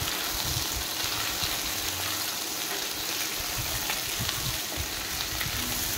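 Chopped onions sizzling and crackling in hot oil in a pan, a steady close frying hiss with small pops that continues throughout, with no talking.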